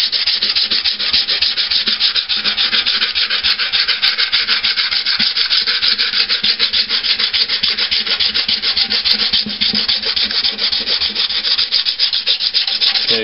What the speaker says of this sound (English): I usually like to get my edges cut in all around first with the sanding